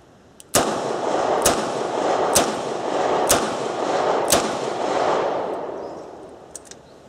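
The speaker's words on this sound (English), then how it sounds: "Let loose with another volley of 5 rounds." Five sharp gunshots ring out at a shooting range, evenly spaced about a second apart, loud and close with echoing tails, followed by faint clicks and handling noise.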